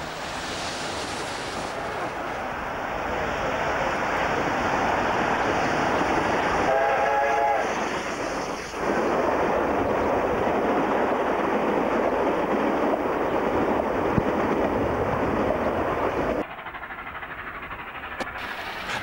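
Victorian Railways R707 steam locomotive heading north near Broadford, a loud, continuous rolling roar of the train passing close by, with a brief whistle-like tonal burst partway through and a sharp change in sound near the end.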